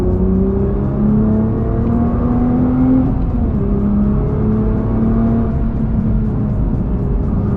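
Nissan GT-R R35 with dual-clutch transmission accelerating hard, engine drone rising in pitch through successive quick gear changes, heard loud and steady from inside the car with no talk.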